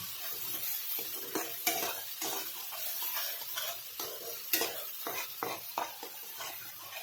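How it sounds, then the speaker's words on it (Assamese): A ground mustard spice paste is stirred and fries in a pan with cumin seeds and curry leaves for an Assamese fish curry. A soft sizzle runs throughout, and a spoon scrapes and taps against the pan now and then. "মই পিচি ৰখা এই মছলাখিনি দি দিছোঁ। তাৰপিছত ধুনীয়াকৈ লৰাই দিছোঁ।"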